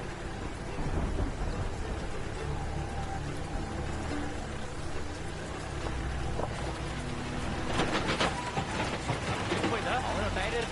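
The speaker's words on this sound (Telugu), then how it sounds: "బాగా వర్షం పడుతోంది." Heavy rain pours during a nighttime car scene in an action-thriller film, with rumbling thunder swelling midway. A continuous wash of rain runs throughout, and voices are mixed in.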